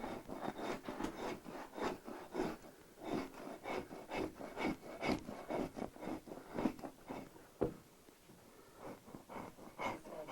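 A knife scrapes flesh from an animal hide for drum making in repeated rasping strokes, each one a short rough rub, close and fairly quiet, with no talking.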